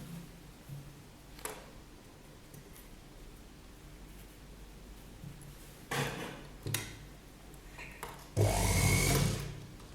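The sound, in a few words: sewing machine stitching child's frock belt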